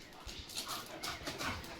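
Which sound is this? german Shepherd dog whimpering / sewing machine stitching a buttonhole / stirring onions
german Shepherd dog whimpering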